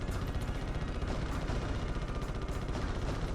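Missiles fire during a Ratchet and Clank boss battle on PS2, a dense, continuous barrage of rapid blasts and crackling explosions, loud and unbroken, with no voices.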